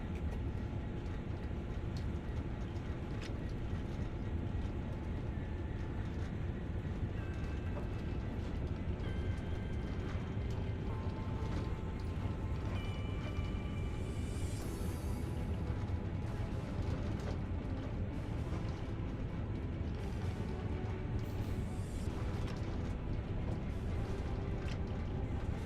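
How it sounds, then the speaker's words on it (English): A train rolls into a station platform in Train Sim World, a steady low rumble and rattle of wheels and machinery running alone at moderate level, with faint squeals near the middle and end. "Oh, nice little train coming into the platform there."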